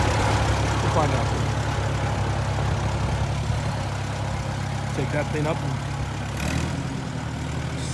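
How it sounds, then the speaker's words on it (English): A tractor engine idles steadily with a low, continuous rumble throughout, while a person talks over it. "sweet running on the tractor."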